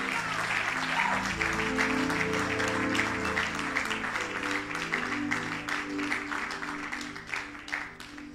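A church congregation applauding, dense rapid clapping from many hands close by under sustained music, tapering slightly toward the end.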